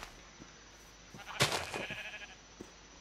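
A sheep in the Minecraft video game lets out one loud, wavering bleat near the middle, with faint soft game sounds before and after.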